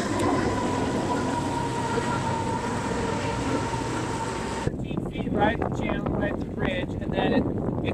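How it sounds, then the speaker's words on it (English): Rumbling of a train rolling past at close range, a steady roar that shifts midway into clattering, squealing wheel noise on the rails. "There's another train."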